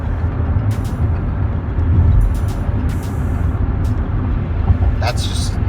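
Toyota Celsior with a 4-liter V8 accelerating from 60 to 100 km/h while staying under 2100 RPM, a steady low engine drone and road rumble from inside the cabin throughout, with brief clicks and rattles.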